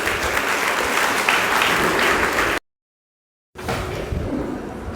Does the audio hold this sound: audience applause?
yes